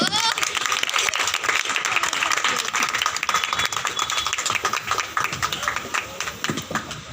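An audience claps for a young girl at a Women's Day event, loud steady applause from a crowd filling the whole stretch, with a voice speaking over it.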